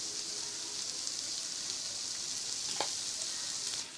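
Potato egg fried rice being stirred in a hot pan, a steady bright sizzle of frying throughout with one brief scrape of the utensil near the end.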